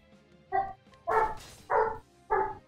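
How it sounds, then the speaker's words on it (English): A dog barks four times in a steady rhythm, each bark loud and fairly close. A quiet hum runs underneath, and no one speaks. "I just wish that dog would stop when he's about to go to bed."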